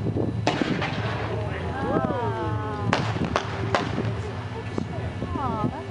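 Fireworks shells launch and burst in a private beach demonstration, several sharp booming reports cracking out across about six seconds over steady crowd noise and voices talking nearby.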